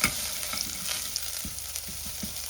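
Garlic cloves with curry leaves sizzle and fry in a pan, a steady close crackle broken by soft scraping and stirring knocks, with no voices.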